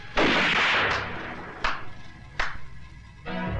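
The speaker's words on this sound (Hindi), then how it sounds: "हवा में गोलियां चलाने से कुछ नहीं होगा" Gunshots fired into the air during a tense film confrontation: a long loud opening blast, then two more sharp separate shots a second apart, each with a ringing tail, and no voices over them.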